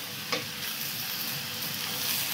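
Squid fries in a pan with a steady, close, loud sizzle and crackle throughout, no voices over it.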